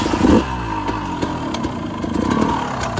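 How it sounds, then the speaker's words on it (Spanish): A KTM EXC 200 two-stroke dirt bike idling in neutral, a steady close-up mid-pitched engine putter with rattly clatter and a brief throttle blip near the start. "Hace el sonido en ralenti para que lo escuchen."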